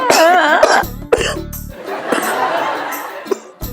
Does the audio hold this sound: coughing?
yes